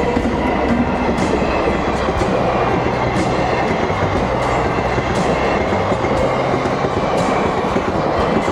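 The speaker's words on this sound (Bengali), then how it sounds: "এই ট্রেনের ঢোকাটা অদ্ভুত সুন্দর লাগে" A local train rolls into a station in Murshidabad, a loud continuous rumble of wheels on rails with rhythmic clacking over joints, heard close by.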